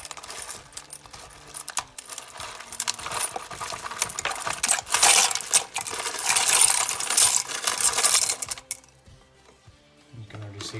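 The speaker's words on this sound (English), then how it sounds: "For this one, I'm going to put in my silver." Silver coins dropped one after another into a container of warm water for cleaning after metal detecting, making a dense run of bright metallic clinks and chinks up close that thins out and stops near the end.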